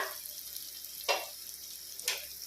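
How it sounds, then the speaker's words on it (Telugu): Tomato pieces simmer in a pan for a taro curry, giving a steady soft sizzle and bubble with two brief louder stirring scrapes; no speech. "టమాటా ముక్కల్ని ఇలా ఉడకాలన్నమాట"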